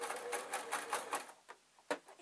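A sewing machine runs in short, uneven stuttering bursts while sewing patchwork strips for a tissue packet cover, quiet rhythmic clattering that slows and falters, ending with a single sharper knock.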